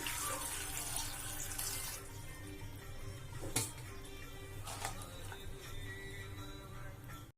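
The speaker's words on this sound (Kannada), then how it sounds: "ಈಗ ಇದಕ್ಕೆ ನೀರು ಹಾಕೋಣ" Water is poured into a pressure cooker holding legumes for a kuchugalu curry, a steady close splashing stream that runs alone throughout.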